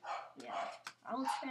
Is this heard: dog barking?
yes